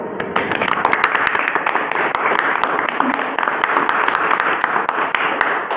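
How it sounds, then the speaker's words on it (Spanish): Applause greeting a guest law graduate joining a podcast, with dense, steady clapping and sharp individual claps throughout, near and fairly loud, with no talk over it. "Valeria Martínez Hernández, para quien pido un fuerte aplauso."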